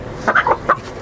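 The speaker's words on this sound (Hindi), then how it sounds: "पंजाबी नस्ल का ये मुर्गा है।" A Punjabi Aseel rooster gives a few short, close clucks in a quick little burst, with a faint background hum.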